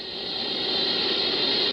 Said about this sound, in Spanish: Pero la Horn antena que utilizan recibe constantes interferencias.